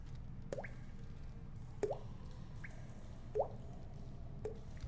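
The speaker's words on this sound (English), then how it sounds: "I love that water droplet sound." Water droplets plop in the fantasy online game The Lord of the Rings Online, about five distinct, echoing drips spaced irregularly over a quiet, low ambient hum.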